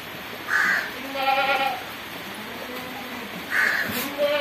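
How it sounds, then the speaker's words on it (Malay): A Jamlo goat bleats in two short, nasal calls a few seconds apart, fairly close and loud over steady outdoor background noise. "Jadi ini bila kambing jamlo dikatakan panjang pun tidak, dikatakan pendek sangat pun tidak."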